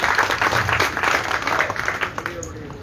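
Loud, sustained applause from an audience at a public address in Kirari, a dense wash of clapping that holds steady for nearly three seconds before thinning out.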